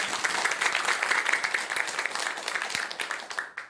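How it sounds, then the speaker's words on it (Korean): A crowd claps steadily in sustained applause, dense and fairly loud, tapering off at the very end. "큰 박수 한번 주시기 바랍니다"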